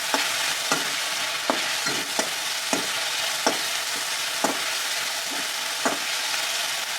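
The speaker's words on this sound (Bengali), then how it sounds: "লবণ দিয়ে একটু আরেকটু ভেজে নেব," Food fries in a pan with a steady loud sizzle while a spatula stirs and scrapes at regular intervals, knocking against the pan, after salt has been added.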